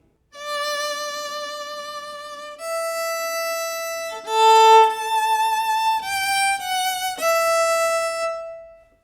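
A single violin plays a slow, simple melody from the Titanic theme, sustained bowed notes running from D up to E, clear and close, with no voices.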